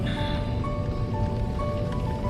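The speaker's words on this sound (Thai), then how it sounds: "ฝนก็ตก" Steady rain hisses and patters continuously, with a faint tonal hum running through the background.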